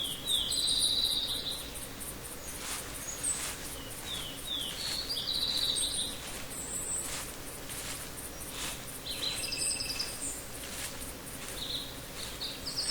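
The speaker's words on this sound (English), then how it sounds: "If you listen closely, you can hear obviously different types of birds," Continuous insect buzzing with varied bird chirps, whistles and woodpeckers scattered throughout, a dense outdoor nature ambience in the video game theHunter with no talking.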